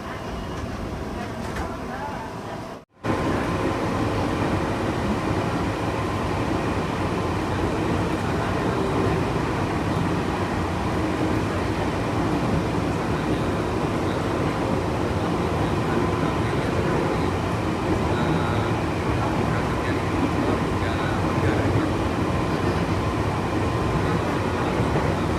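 A KRL Commuterline electric train arrives at Cikini station on the Bogor to Jakarta Kota line, heard from inside as a steady loud rolling rumble after a brief drop at the start.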